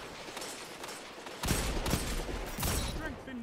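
Gunfire in a shooter video game, with several loud, dense bursts of shots and short pauses between them.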